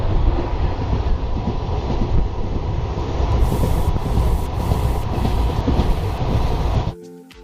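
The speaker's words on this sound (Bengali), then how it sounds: "ট্রেন এসে পৌঁছালো লখনৌ জাংশনে" A train rolling into Lucknow Junction gives a loud, continuous low rumble with rattling carriages and wheel noise that holds steady before dropping away abruptly near the end.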